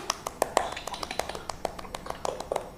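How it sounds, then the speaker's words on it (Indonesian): Many hands in a classroom clap together in a quick, steady, slightly uneven rhythm, with crisp individual claps standing out over a quieter room. "Tepuk tangan lebih keras lagi."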